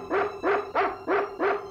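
A cartoon dog barks five times in quick, evenly spaced succession, loud and close with no talk over it.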